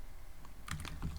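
A few quick computer keyboard keystrokes click close by, a short burst of typing code in Python over quiet background hiss.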